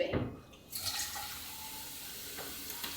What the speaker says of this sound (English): And then I put in the roughly 1 liter of water.